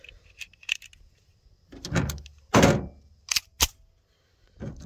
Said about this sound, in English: Let's put it in the factory mag.